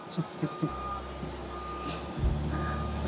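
Repeated electronic backup beeps from a reversing truck in a US street, a few evenly spaced tones near the start followed by a steady low engine rumble, with a voice speaking over it.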